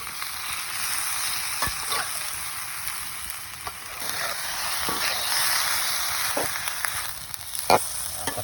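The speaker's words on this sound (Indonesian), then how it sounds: "Kita tumis terasi ya teman ya, biar wangi." Shrimp paste (terasi) sizzles steadily in a pan at a forest campsite, a continuous close frying hiss broken by occasional light scrapes and clicks of stirring, with no talk.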